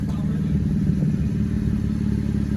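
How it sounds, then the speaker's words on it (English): A car engine running with its muffler removed gives a loud, steady, deep exhaust rumble that holds for a couple of seconds with no pauses. "That's what it sounds like with no muffler."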